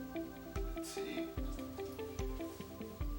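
Water poured onto paper treated with a protective nanomaterial solution drips in a slow series of soft, close drops, about one every half to three-quarters of a second, faint overall.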